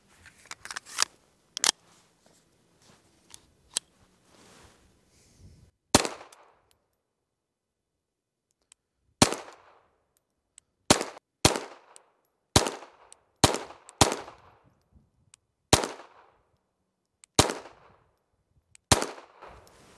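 Shots from an FN 502 Tactical .22 LR pistol made by Umarex, fired as a dozen sharp, loud cracks spaced roughly one to two seconds apart, with no talking.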